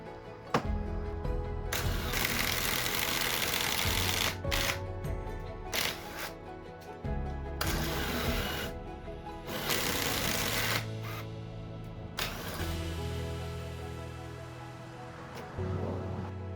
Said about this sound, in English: I pocket hole drilled at both ends of all 12 36-inch boards.